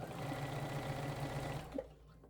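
Sewing machine stitching bias tape onto the skirt and bodice seam fabric, a steady, rapid mechanical whir with a regular stitch beat that runs for most of the moment, then stops with a small clunk.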